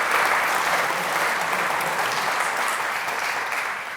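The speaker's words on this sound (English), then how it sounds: "Another round of applause for the MHA Communities and Liberty" Sustained applause from an audience at a community awards ceremony, a dense steady wash of clapping that holds evenly for the whole stretch before easing slightly at the end, with no voices over it.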